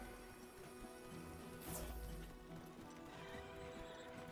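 Horse-like dragon mount in Monster Hunter Wilds neighs once mid-clip over hoofbeats and game ambience, fairly quiet and steady throughout.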